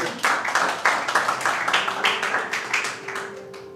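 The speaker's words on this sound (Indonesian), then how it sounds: "Coba berikan tepuk tangan." A church congregation claps together during a Sunday worship service, a dense burst of hand claps with a steady rhythm that carries on for several seconds in a large room.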